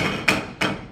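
A gavel is struck twice on a desk, two sharp, close knocks about a third of a second apart, each trailing into a short ring over room noise.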